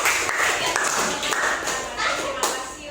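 A classroom group bursts into clapping, many hands striking together in a dense, continuous patter that stays steady and fairly loud for the whole stretch, with children's voices mixed in.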